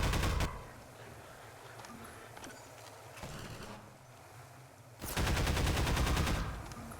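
Bursts of rapid gunfire from the video game Half-Life 2 at the start and again near the end, loud and sharp, with quieter mechanical clatter in between.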